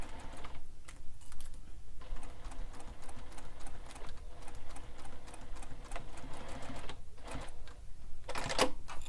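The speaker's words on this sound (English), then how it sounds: "Now we're going to stitch directly on those marked lines." A sewing machine stitching along marked lines on a fabric bag, a continuous close mechanical whir with rapid needle clatter, pausing briefly and restarting, with a few light handling clicks near the end.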